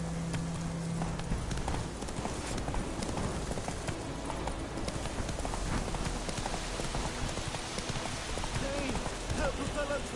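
Steady clip-clop of the horse Roach's hooves in The Witcher video game, trotting continuously over a wet, rainy ground with rain noise beneath; a voice speaks briefly over it.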